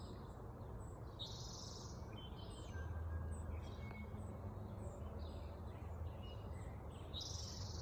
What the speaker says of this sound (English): The birds are singing out here.